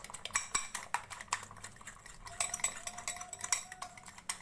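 An egg mixture with chilli is whisked in a bowl for a bread omelette, giving a quick irregular run of clinking, tapping utensil strokes with wet sloshing, close and steady, with no talk.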